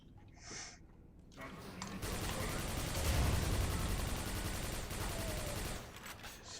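Weapon fire in the video game Quake 4, a loud, dense burst of crackling, roaring blasts lasting several seconds after a brief quieter lead-in, with a faint voice early on.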